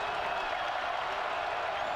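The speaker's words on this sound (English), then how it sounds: "Crowd trying to get in the ear of Cass now as he'll step up" A steady, dense roar from the stadium crowd fills a college football game between Wofford and Georgia Southern as the quarterback steps up on third down, a continuous wash of noise with no clear breaks.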